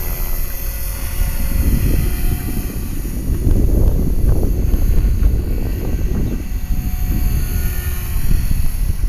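An HK 450 RC helicopter flies loops and flips outdoors, its rotor giving a steady whirring drone that swells and fades under heavy wind noise.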